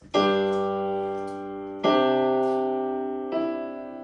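Three sustained piano-like chords forming a suspension, each struck and left ringing, the second shifting its inner note to resolve; played alone, clear and fairly loud.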